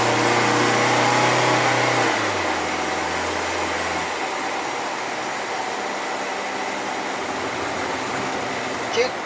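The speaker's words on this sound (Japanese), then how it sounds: "そんなに踏み込まなくてもすぐエンジンがうなるね。" A Toyota TownAce van's engine drones steadily as the van climbs a hill, a broad continuous roar with a pitch that drops partway through, heard from inside the cabin at a constant loudness.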